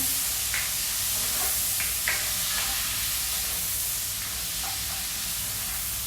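A mung bean and vegetable dish with tomato and capsicum is stirred in a hot pan, giving a steady close sizzle broken by soft spoon scrapes, with no talking.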